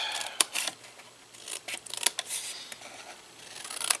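Scissors cutting through paper for an explosion box craft: several short crisp snips spaced unevenly across a quiet, close-up moment, with no talking.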